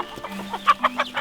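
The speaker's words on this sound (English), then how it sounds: "This chicken is also part of the farm here." A chicken on a tea farm clucks in a few short, close bursts, loud and clear with little else around.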